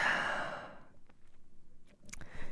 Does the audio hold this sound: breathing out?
yes